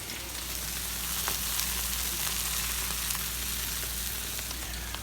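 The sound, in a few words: buttered burger buns sizzling on a griddle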